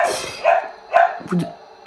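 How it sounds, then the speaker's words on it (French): Dog barking indoors at home, three loud separate barks spaced roughly half a second apart, with no talking. "Je ne sais pas pourquoi mon chien aboie à la mort."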